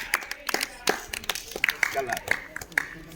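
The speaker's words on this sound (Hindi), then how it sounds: "वेरी फाइन, ताली बजा दो।" Students in a class 7 mathematics lesson clap together in a classroom, producing a quick, uneven run of sharp, close handclaps over about three seconds.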